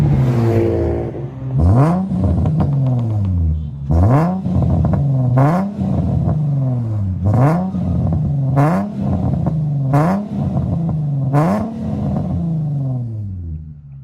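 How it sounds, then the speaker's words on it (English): An Infiniti G37s coupe with a new exhaust and test pipes revs repeatedly while stopped at a light: about seven loud, close throttle blips, each rising sharply and falling away, with no talking. "Let's get a couple of revs over at this light too."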